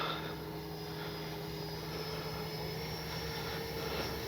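An FMS Rafale 80mm electric ducted-fan RC jet on its landing approach with gear down and nose high, heard as a steady, droning whine with a constant tone, fairly even in loudness throughout and with no talking.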